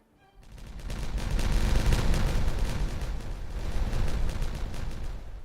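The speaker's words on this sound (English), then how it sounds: "So let's detonate." A loud explosive detonation in the beaver colony-building game Timberborn, a broad booming blast that rolls into sustained rumbling and crackling debris for several seconds with no talk over it.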